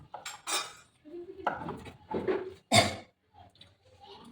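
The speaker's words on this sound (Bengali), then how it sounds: "পালং পনিরের জন্য আমি এইভাবে পিস পিস করে কেটে নিই" A knife slicing paneer into pieces on a board, a series of distinct close clicks and scrapes of metal against the surface in an uneven rhythm, with brief pauses between cuts.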